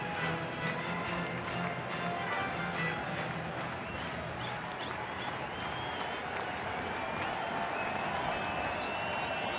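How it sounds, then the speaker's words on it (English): Sellout baseball crowd at a Milwaukee ballpark, Colorado at Milwaukee, a steady dense murmur and scattered clapping filling the stands, continuous and fairly loud throughout with no clear voice standing out. "Sellout crowd ready to roar."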